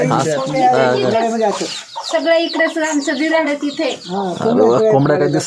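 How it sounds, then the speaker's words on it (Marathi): Several chickens cluck loudly and close by, their repeated calls overlapping almost without pause, with brief breaks between bursts. "आजीच्या सगळ्या कोंबड्या घरात"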